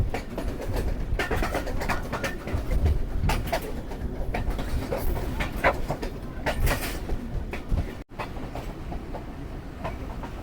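A passenger train pulls into Pejowali railway station on the Lahore to Sialkot line, with loud rumbling and clickety-clack of wheels close by and birds audible alongside.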